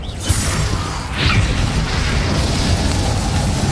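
Confringo and Diffindo spell blasts in the video game Hogwarts Legacy, a dense, loud roaring boom with whooshing bursts that swells and sustains for a few seconds.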